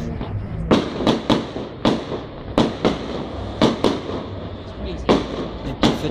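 A fireworks display bursts at Valbonne on 13 July: repeated sharp booms arrive every half second or so, loud and somewhat distant. A crowd murmurs underneath, and voices talk between the blasts.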